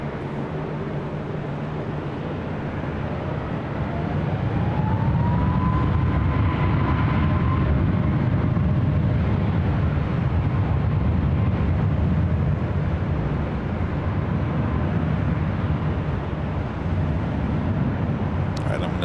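Southwest airliner taking off from runway 24 left at LAX at night, a loud sustained jet roar building after a few seconds and holding steady, with a rising engine whine riding over the broad rumble.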